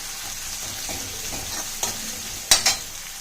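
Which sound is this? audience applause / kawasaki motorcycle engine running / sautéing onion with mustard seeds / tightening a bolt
sautéing onion with mustard seeds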